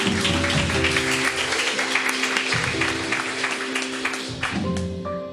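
A church congregation claps together in sustained, dense applause that holds steady at full strength for several seconds before tapering off, with a held musical tone running underneath.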